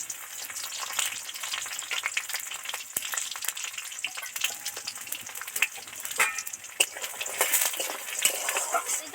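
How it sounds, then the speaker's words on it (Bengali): Bori, small lentil dumplings, fry in hot oil in a karai, giving a dense, steady crackling sizzle with scattered sharper pops that runs close and fairly loud for the whole stretch, with no voices over it. "কড়াতে তেল দিয়ে দেবো বড়ি কটা তেলের মধ্যে দিয়ে দিচ্ছি"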